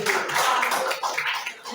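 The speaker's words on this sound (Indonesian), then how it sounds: "kita kasih aplaus untuk kelompok 5" A group applauding in a classroom-style session, a dense continuous patter of many hands clapping at moderate loudness for the whole stretch.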